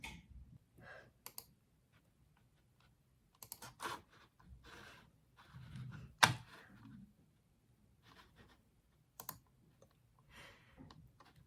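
Computer mouse clicks and keyboard taps while registering for university courses at the University of Warsaw come as sparse, quiet, close clicks in a near-silent room, with one sharper click midway.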